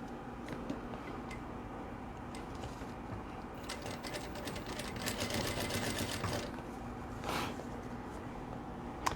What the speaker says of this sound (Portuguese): Viro o meu trabalho e vou costurar agora esse lado aqui